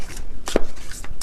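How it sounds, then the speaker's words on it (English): A deck of oracle cards being shuffled by hand, a few quick crisp riffles and slaps in short bursts, close and fairly loud with no talking. "And I just shuffled my deck here, which is the Beyond Mind Oracle"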